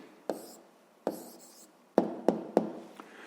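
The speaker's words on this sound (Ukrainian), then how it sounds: "зараз записуємо відповідь" A pencil writes an answer into a maths exercise book, heard as several close, distinct scratchy strokes with short pauses between them, quick marks clustered near the end in a quiet room.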